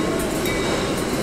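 A New Jersey train in the Roblox Ro-Scale video game rolls along steadily with a continuous rumbling rail noise, loud and close, for a brief moment with no talk.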